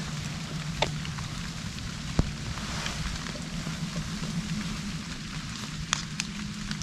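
Steady rain patters down in a continuous hiss in the Linderödsåsen Ridge area of southern Sweden, with occasional sharper drops ticking nearby over a low background rumble.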